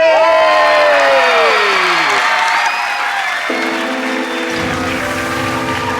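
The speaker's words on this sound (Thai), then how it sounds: "ขอเสียงปรบมือต้อนรับ" A television studio audience claps and cheers loudly throughout, with whoops rising over the sustained applause.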